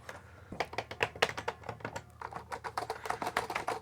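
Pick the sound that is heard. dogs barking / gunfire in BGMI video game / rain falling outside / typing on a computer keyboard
typing on a computer keyboard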